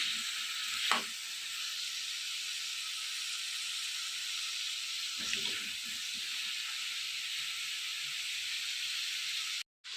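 Ridge gourd pieces frying in a pan for Telugu ridge gourd chutney, a steady broadband sizzle throughout with two brief stirring clatters near the start and middle, then a sudden cut at the end.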